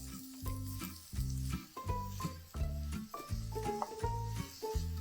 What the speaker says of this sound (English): while these onions are frying up